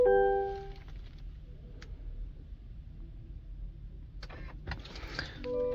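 A Cadillac Escalade Sport power window motor whirs steadily as the glass runs down and back up inside the cabin, a low even hum lasting several seconds between clicks of the switch.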